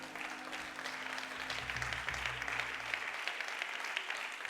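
Church congregation clapping together in a hall, a dense, steady wash of applause lasting several seconds at moderate distance, with faint voices beneath it.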